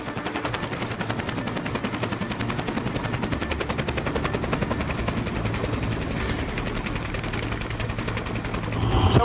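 Military helicopter lifting off from the deck of the ship Libecchio: loud, continuous rapid rotor chop with a dense turbine roar, close and unbroken throughout.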